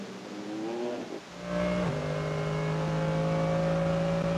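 Aston Martin GT8 race car on the Nordschleife during the VLN 6-hour endurance race, its engine note swelling from a distant rumble into a loud, sustained, pitch-shifting roar as it approaches and passes.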